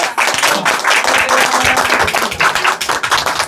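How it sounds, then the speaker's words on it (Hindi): A church congregation in a prayer hall claps hands in welcome, a loud, dense and continuous stretch of many palms striking together at close range. "आइए पहले खड़े हो जाएंगे हम सब और परमेश्वर की जोरदार स्वागत करेंगे ताली बजा के"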